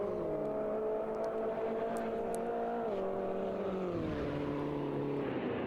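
Engines of small Mini race cars packed together in Automobilista 2, a steady droning whine that shifts pitch as the cars run a lap at Montreal, continuous and fairly close.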